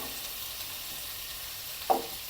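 Okra frying in a pan with curry leaves and being stirred, giving a faint, continuous sizzle with one short clack of the spoon near the end.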